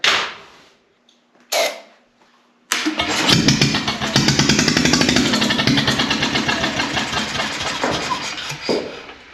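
A neglected Onan generator engine gives a couple of short sputters, then fires up and keeps running with a loud, rapid, rough chugging that continues to the end.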